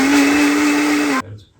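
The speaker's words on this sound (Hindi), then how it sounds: "अब मैं इसको मिक्सी में घुमा के लेके आता हूँ" Mixer grinder blending banana with water, a loud steady motor whine running close up for over a second before cutting off abruptly, followed by brief quiet.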